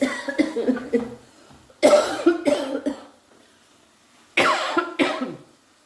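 A woman with a bad cold coughs in several harsh, close bursts, each a cluster of two or three rough hacks separated by brief quiet pauses.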